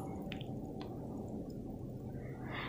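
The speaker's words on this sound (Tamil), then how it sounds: "அப்புறம் நல்லா புழிஞ்சுக்கிறேங்க" A wet cloth, soaked in plain water to treat a turmeric stain, is wrung out by hand, giving soft squishing and dripping sounds over a steady low background rumble.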